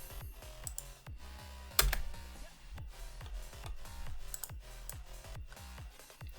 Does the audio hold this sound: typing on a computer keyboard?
yes